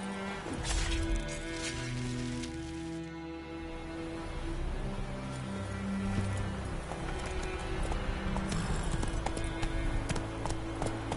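Horse hooves clip-clop steadily in a PS4 video game, a continuous trotting rhythm running beneath layered game music and ambience.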